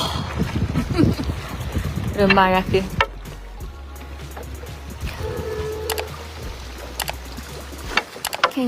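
Traditional wooden boat gliding on water, with soft lapping and splashing from the hull and oars under close conversation, plus a few brief creaks and knocks.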